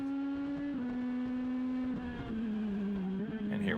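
An INEX Legends race car engine drones loudly and steadily on track at New Hampshire Motor Speedway, heard from onboard, its pitch easing down slightly before climbing again under throttle.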